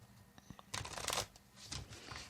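Tarot cards shuffled by hand, a few quick riffling bursts with soft papery flutter between them, close and clear with no talking.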